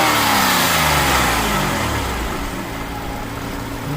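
A 1991 Nissan Maxima SE 5-speed engine runs loud and close after a repair, revving down from a raised pitch and then settling into a steady, even idle.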